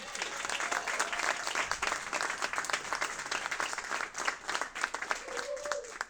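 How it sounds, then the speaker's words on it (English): Sustained round of applause from a graduation ceremony audience honoring faculty and instructors, dense clapping at steady loudness that fades toward the end, with a brief voice near the close. "I hope the faculty and instructors of our amazing department could also get a round of applause."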